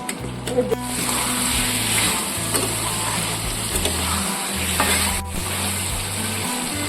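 Bengali-style soybean curry spices frying in oil in a pan: a steady close sizzle with intermittent stirring scrapes and spatters throughout.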